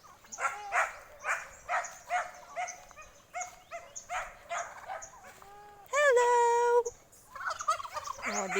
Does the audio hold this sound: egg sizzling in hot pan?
no